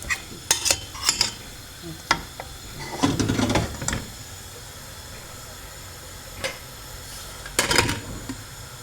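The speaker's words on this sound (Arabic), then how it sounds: "الثوم وراني نقلي فيها مليح مليح، لازم نقلوها مليح" Garlic frying in oil in a pan while making Algerian chard dolma, heard as a soft steady sizzle with bursts of utensil clatter and stirring scrapes against the pan.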